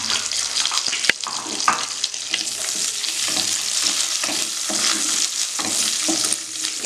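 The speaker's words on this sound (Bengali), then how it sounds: "আমি একসঙ্গে কাজু কিশমিশটা একটু হালকা ফ্রাই করে নেব।" Cashews and raisins frying together lightly in a pan over a low gas flame, a steady close sizzle with occasional stirring scrapes and clicks throughout, no voices.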